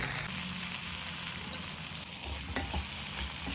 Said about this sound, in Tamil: கொஞ்சமாக எண்ணெய் விட்டு நல்லா ரோஸ்ட் பண்ணிங்க.